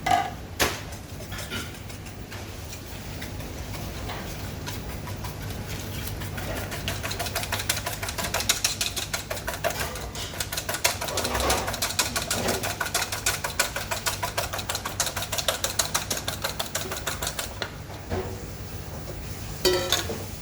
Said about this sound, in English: we blend.